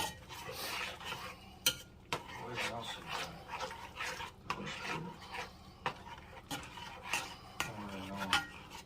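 Chili is stirred in a pot with a spoon, giving repeated scraping and knocking strokes in an uneven rhythm, with faint voices in the background.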